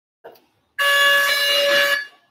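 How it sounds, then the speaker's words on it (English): Quiz buzzer at a school spelling bee, a single loud, sustained harsh electronic tone lasting over a second, preceded by a brief faint sound. "Buzzer."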